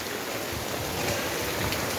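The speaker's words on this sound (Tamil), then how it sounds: "மழை நல்லா ஜோராக பெய்யுது" Rain falls steadily on a rainy day in Dindigul district, a dense, even hiss of drops on surfaces and betel vines, close and continuous with no talk.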